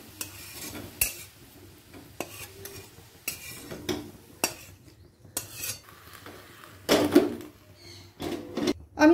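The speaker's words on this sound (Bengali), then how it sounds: "লাল করে ভাজা হয়ে গেছে, আমি অন্য পাত্রে তুলে রাখছি" Fried ash gourd pieces being scooped out of a pan into another vessel while cooking a Bengali sukto, with irregular metallic scrapes, clinks and stirring knocks of a utensil against cookware, close and moderately loud, no talking.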